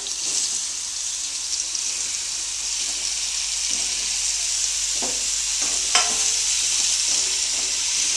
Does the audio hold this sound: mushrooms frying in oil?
yes